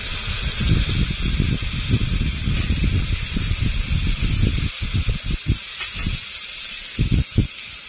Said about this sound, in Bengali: আলুগুলো ভালো করে কষে নিয়েছি, এখন জল দিয়ে দেব।